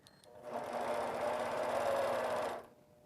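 Longarm quilting machine stitching flannel fabric in a quilted heart demo: a steady, fast mechanical whirr of rapid stitching that starts abruptly, holds for about two seconds, then stops, close and clear with no talking.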